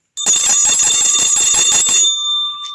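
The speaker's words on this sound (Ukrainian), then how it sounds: "Це дуже голосний музичний дзвіночок." A small musical bell shaken hard, ringing loudly and rapidly for about two seconds before its bright tone lingers and fades, with no voices.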